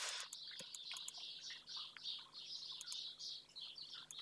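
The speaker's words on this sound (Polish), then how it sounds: "Ja tu mam pełno ptaków, wiesz, w dworze." Many small birds chirp and tweet outdoors in a yard, quick bright calls overlapping in bursts, fairly faint and distant, with no talking.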